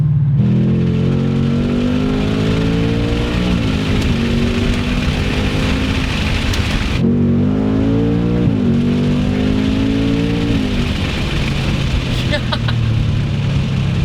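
A modified 2024 Mustang GT's Magnaflow exhaust revs hard twice, the engine note climbing and dropping back, loud and close, with steady road rumble underneath.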